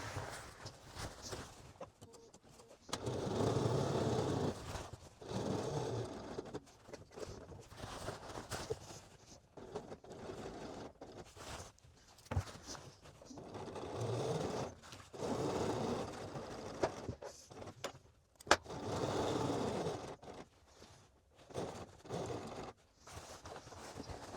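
A sewing machine runs in several long bursts of top stitching through a skirt's waistband, stopping briefly between passes, with a steady mechanical whir at moderate loudness and no voices.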